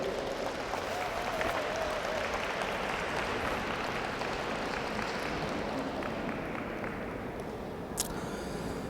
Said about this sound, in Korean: 두 분을 위해서 큰 박수 한번 부탁드리겠습니다